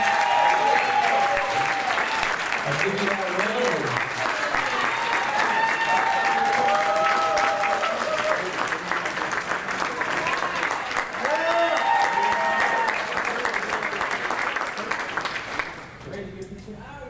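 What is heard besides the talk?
audience applause for a coach at a corporate event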